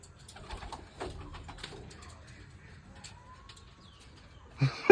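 A pet pigeon cooing softly at close range among small rustles and clicks, with a brief louder knock at the very end.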